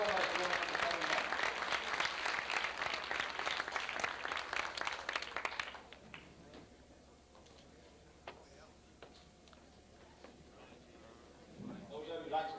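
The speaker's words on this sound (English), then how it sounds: "Let's give them a round of applause." An audience at a 75th birthday party applauds Williams Manufacturing Company, with dense clapping for about six seconds before it stops abruptly, leaving quiet room noise, some scattered sounds and a faint voice near the end.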